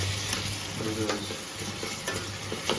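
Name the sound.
potatoes and tomato frying in a pan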